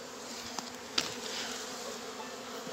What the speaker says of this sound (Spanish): Acá, como pueden ver, la mayoría de las abejas ya han entrado.